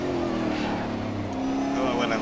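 A race car in Grid Autosport accelerates through a turn with a steady, loud engine drone, while someone talks over it the whole time.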